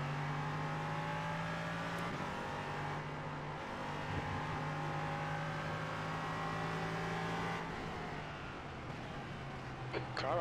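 An LMP3 prototype race car in a racing video game, its engine droning steadily at close range as another car passes, under a steady layer of engine noise.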